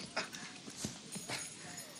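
Horse hooves clip-clop in a few soft, spaced strikes within a Lord of the Rings audio drama scene in Rohan, quiet and without speech over them.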